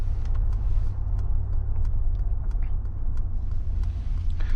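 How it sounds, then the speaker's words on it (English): A Mercedes G580 electric SUV plays a simulated combustion drive sound, a steady low engine-like rumble that continues under faint road and cabin noise, with no talking. "It is quite close to combustion, and I personally prefer this over the space sound in the EQS, EQE, and those models."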